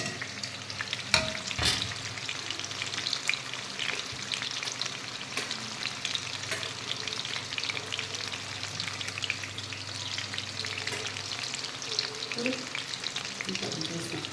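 Chicken 65 pieces frying in hot oil give off a continuous close sizzle, broken by a few sharp clinks and scrapes of stirring.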